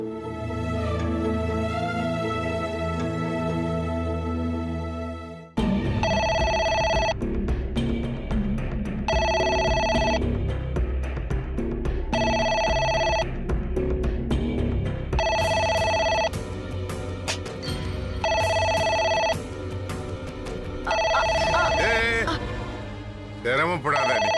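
A telephone rings in repeated double bursts, loud and clear, over a continuous bed of music. The ringing is heard after a held musical chord, and voices can be heard faintly underneath.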